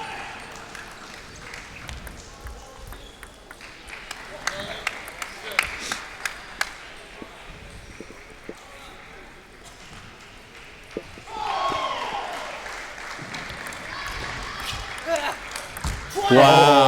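At a 2016 NCTTA Nationals men's singles table tennis match, crowd applause swells after a game win, following quiet rally ball pings and commentary.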